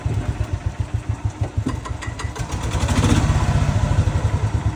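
A 1999 Club Car DS golf cart engine running as the cart drives, a steady close chugging putter that builds slightly louder toward the end, with no talk.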